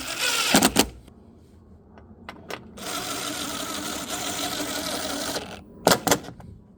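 Bolts being run down on a Ford Bronco speaker cover with a power driver, a long steady whirring burst between short sharp bursts at the start and end, close and fairly loud with no talking.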